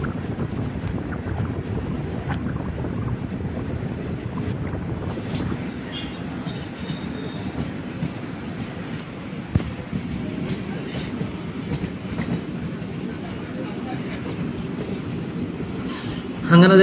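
A passenger train on the way to Guruvayur rumbles and rattles along the rails in a steady, loud roar, with rushing wind and occasional faint wheel squeals, ending in a louder surge.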